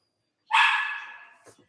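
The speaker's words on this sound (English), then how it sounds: "The high pitched bark is usually I've got to do something, help me." One dog gives a single high-pitched bark that trails off into a fading whine, close and clear, followed by a faint brief yip.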